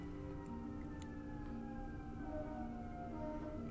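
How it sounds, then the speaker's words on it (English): A distant siren wails faintly, its drawn-out tones sliding slowly in pitch under low background rumble. "You heard a siren?"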